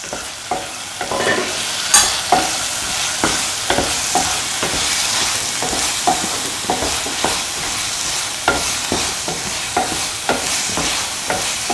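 A spoon repeatedly scrapes and stirs fennel and turmeric powder with rosemary and parsley in a sizzling frying pan, sharp rhythmic strokes roughly every half second over a steady close sizzle, with no talk.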